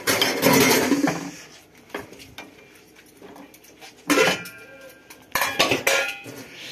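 Ceramic cup and utensils clink and clatter in bursts as a cup is handled before pouring tea, with quieter shuffling in between and no talking.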